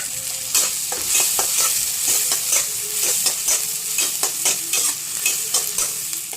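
Chopped capsicum frying in oil for paneer bhurji, a loud continuous sizzle with frequent clicks and scrapes of a spatula stirring in the pan, close and without talk.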